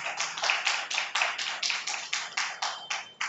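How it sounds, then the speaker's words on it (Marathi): An audience at a lecture-series event applauding in a steady rhythmic beat, about a dozen even claps in quick succession, moderately distant. "आपण टाळ्या वाजवून अभिनंदन करूया"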